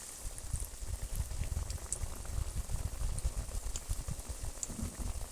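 Okra fritters dipped in gram flour batter, with soybean and paneer, frying in hot oil: a steady, dense bubbling and crackle that runs unbroken throughout, with no talk.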